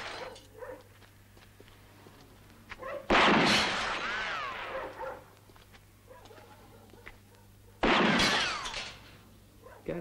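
Gunfire in an Italian feature film scene: two loud, sharp blasts several seconds apart, each followed by a long decaying ring, with faint quieter sounds between.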